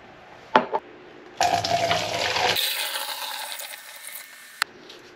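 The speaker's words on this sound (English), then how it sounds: "And then I'll pour this into my storage bottle." Photographic developer stock solution, XTOL-R, pours into a storage bottle: a brief clink, then a loud, close gurgling stream of liquid for a few seconds, ending with a small tap.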